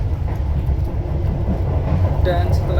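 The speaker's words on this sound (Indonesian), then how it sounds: "kereta api Kuto Jaya Selatan sudah meninggalkan stasiun Cipendei" A Kutojaya Selatan economy passenger train runs after leaving Cipeundeuy station, heard from inside the carriage as a loud, steady low rumble and rolling roar with faint rattles and a voice speaking over it.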